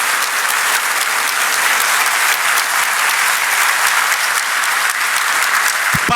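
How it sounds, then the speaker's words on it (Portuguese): Loud, sustained applause from a large audience greets a general at a Brazilian government ceremony, dense and continuous from start to finish. "vamos receber com uma salva de palmas esse general extraordinário"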